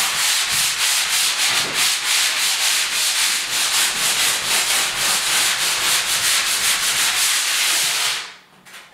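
Sandpaper is rubbed steadily over a wall being prepped for primer and paint, a light pass to remove 100-grit scratches. The close, loud, continuous scratchy rasp holds a rapid back-and-forth rhythm for about eight seconds and then stops abruptly.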